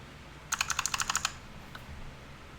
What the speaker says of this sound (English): the soothing clacking of the keyboard truly makes this RE7 run